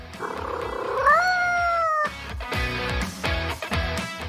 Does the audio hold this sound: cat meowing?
yes